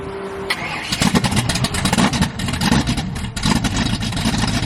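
A car engine cranks, catches and fires up, settling into a loud, rough idle with uneven revving pulses close by.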